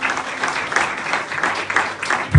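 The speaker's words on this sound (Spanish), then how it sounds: "Denle aplausos a Jehová." A short burst of enthusiastic applause from a church congregation, dense clapping close by.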